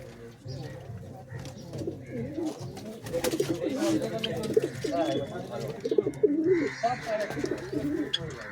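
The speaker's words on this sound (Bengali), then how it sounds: "প্রচুর পায়রা আছে" Domestic pigeons kept at a home loft coo in soft, throaty rolling calls that overlap and continue throughout, fairly close, with people talking in the background.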